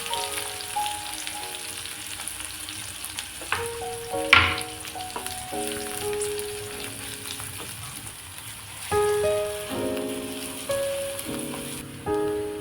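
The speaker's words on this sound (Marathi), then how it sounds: "मस्तपैकी आता कांदा भाजून घ्यायचा आहे" Onion roasts in a pan with a steady crackling sizzle, close and moderate, punctuated by occasional pops and stirring scrapes, while soft tonal background sounds drift beneath it.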